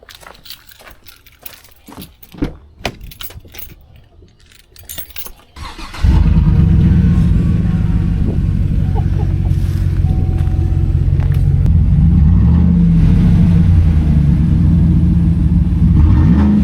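Sparse clicks and handling noises give way to a car engine with its muffler removed, which fires up and holds a loud, deep, raspy roar to the end.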